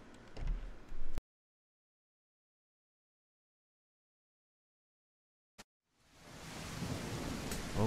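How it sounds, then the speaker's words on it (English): Steady rain in the London-set video game Beyond Hanwell, a broad even hiss that cuts off into several seconds of silence, then fades back in and continues alone. "Always raining in London."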